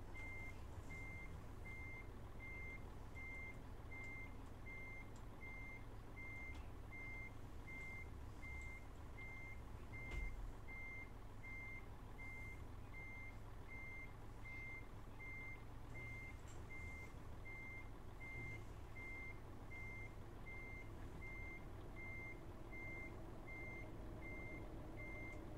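Reversing beeper on a truck in Euro Truck Simulator 2, a steady, evenly spaced series of high electronic beeps over a low engine rumble, continuing without a break for about twenty-five seconds, with no talk.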